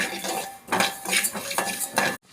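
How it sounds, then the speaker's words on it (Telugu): Fenugreek and mustard seeds stirred and roasted in a dry pan, heard as busy scraping and rattling of a utensil against metal in several bursts, close and fairly loud, with no talking. "మా నాన్నమ్మ అయితే మెంతులు ఆవాలు అయితే వేయించుతుంది"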